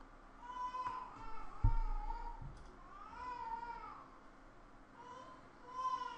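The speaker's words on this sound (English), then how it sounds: "Go get my daughter, as you can hear her crying" A young daughter cries in the distance, with rising and falling wails repeating at a faint level and a few low thumps partway through.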